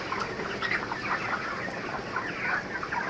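Chickens cluck continuously in a poultry shed beneath a two-storey building on a hot day; the birds are healthy, and the overlapping clucks form a steady, dense flock chatter at close range.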